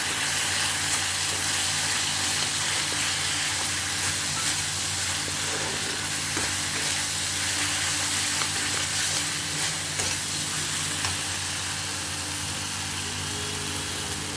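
Spices and two green chilies fry together in a pan, giving a loud, dense, continuous sizzle that holds steady throughout.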